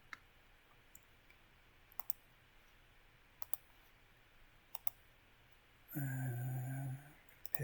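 A computer mouse gives a few sparse, quiet, isolated clicks at irregular intervals while right-clicking through a drawing program. A short steady tonal hum cuts in briefly near the end.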